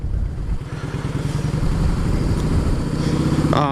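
A 2016 Harley-Davidson Heritage motorcycle engine running close by, a loud, steady rumbling pulse with rapid regular beats throughout and a short clatter near the end.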